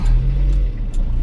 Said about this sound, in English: my short review on driving around in Matra Rancho, or the Talbot. It's a nice little motor